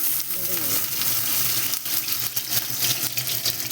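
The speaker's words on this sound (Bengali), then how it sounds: "কালো জিরে ফোড়ন দিয়ে দিলাম" Black cumin seeds sizzle in hot oil as a tempering for a pumpkin-leaf mash, a loud, close, crackling hiss with spattering pops and faint clinks from stirring throughout.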